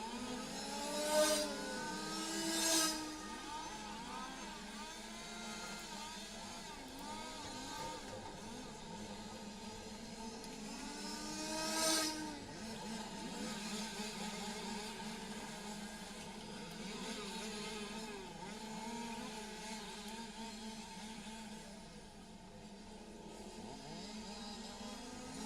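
Radio-controlled touring cars lap a race track at an EFRA LSTC European championship, their small electric motors whining in a steady, overlapping drone with passing swells, while an announcer's voice carries through much of the time.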